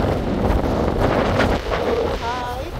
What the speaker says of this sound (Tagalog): Talagang sobra ng hangin.